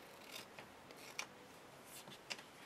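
Scissors trim paper for a handmade mini album, giving a few quiet, separate snips at a slow, uneven pace against a soft background hiss.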